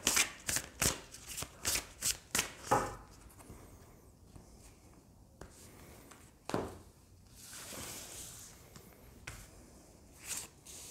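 Oracle cards are shuffled by hand for a reading, a run of quick riffling bursts in a steady rhythm at first, then softer slides and shuffles, close and with no voices.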